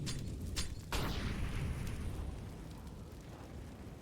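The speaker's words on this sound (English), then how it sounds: "who else but Eris to dump off the nade, keeps, but only tags Rek down to 96" A grenade explodes in Counter-Strike on the Vertigo map during an ESL Challenger esports match, a loud sudden blast with a couple of sharp pops just before it, then a long rumbling decay over about four seconds.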